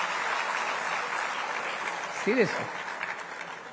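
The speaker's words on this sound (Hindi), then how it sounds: "यहाँ ऐसी ताली सुनी इतने दिनों बाद कि मजा आ गया ताली सुनने का" Clapping from a crowd at a Rajasthani community conclave in Guwahati, a soft steady patter beneath a voice that speaks briefly partway through.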